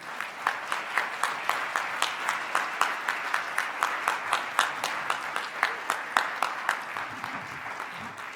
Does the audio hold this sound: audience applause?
yes